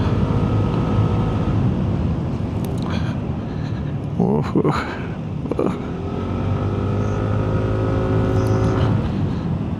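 A Sym ADX 125 scooter's small engine drones steadily while riding the Transfagarasan mountain road, a constant buzzing hum under heavy wind rush with a brief rise in pitch midway.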